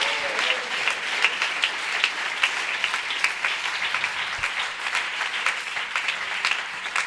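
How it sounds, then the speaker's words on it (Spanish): Congregation at a Spanish-language sermon on forgiveness claps steadily, a sustained roomful of applause with crisp individual claps standing out, continuing at an even level throughout with no speech on top. "Dele ese aplauso al Señor"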